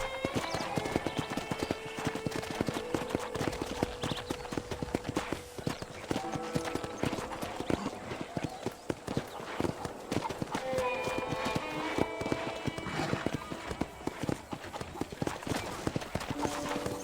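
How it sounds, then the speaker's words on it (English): Steady clip-clop of horse hooves at a trot in the video game Red Dead Redemption, continuous and fairly close, with music and game sounds layered underneath. "let's see if you can still ride a horse"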